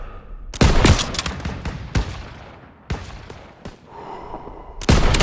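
Gunfire in the World War II shooter Call of Duty WW2, loud sharp shots in irregular bursts with echoing tails and brief lulls between volleys.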